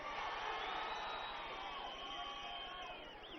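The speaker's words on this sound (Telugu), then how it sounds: "అభినందన్ని అభినందిస్తూ, దేశభక్తుడిని అభినందిస్తూ గట్టిగా చప్పట్లు కొట్టండి" Large crowd at a TDP political rally in Kurnool roars and cheers continuously with dense clapping, steady and loud before easing slightly toward the end.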